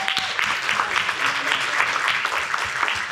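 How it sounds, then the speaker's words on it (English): Convention audience at a live anime voice-acting reading applauding voice actor Chuck Huber, a continuous patter of clapping with faint voices mixed in. "Everyone give a round of applause for Chuck Huber."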